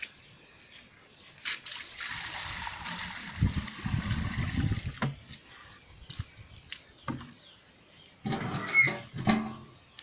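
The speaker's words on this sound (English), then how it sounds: "And put some water." Water trickles and splashes as it is poured into a traditional African pot while fetching water outdoors, with soft dribbling in bursts and a few louder splashes near the end.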